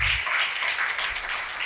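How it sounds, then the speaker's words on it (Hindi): A church congregation at a Christmas service at Grace Bible Fellowship Church applauds to welcome a speaker. The clapping is steady and dense throughout, filling the room evenly. "खादम को जोरदार तालियों में वेलकम करेंगे।"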